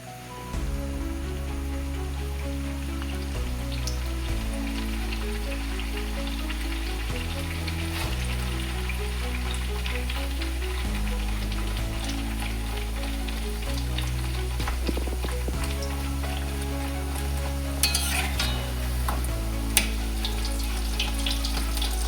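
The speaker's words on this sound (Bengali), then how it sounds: "তেলটা গরম হয়ে গেছে এবার এর মধ্যে ছেড়ে দিচ্ছি" Stuffed pea kochuri fry in hot oil in a kadai, producing a steady bubbling sizzle like light rain under a constant low hum, with a brief louder crackle near the end.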